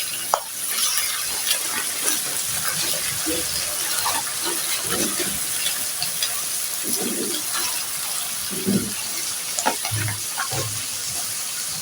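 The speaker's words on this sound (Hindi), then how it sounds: "हरी मिर्चों को भी अच्छी तरीके से साथ भून लेंगे।" Masala with green chilies being stirred and fried in a pan, with a steady sizzle throughout and soft scraping strokes of a spoon recurring every second or so, a little water added along the way.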